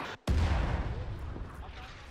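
Gunfire in the military video game Arma 3 during a C-130 pilot rescue mission: a loud, sharp burst of shots breaks in after a brief quiet gap, then sustained rumbling battle noise, with voices talking over it.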